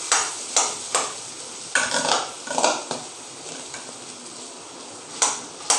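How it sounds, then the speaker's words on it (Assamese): Amla and potatoes fry together in hot oil, a soft steady sizzle under repeated sharp scrapes and clatters of a spatula against the pan at irregular intervals. "এতিয়া আলুৱে আমলখিয়ে একেলগে ইয়াকো 6-7 মিনিট সময় ভালদৰে ভাজি লোৱা হ'ব"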